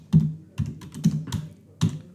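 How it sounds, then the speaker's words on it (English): A web address is typed on a computer keyboard in five distinct, unevenly spaced clicks heard up close, with quiet pauses between the keystrokes. "here I'm typing pabbly.com"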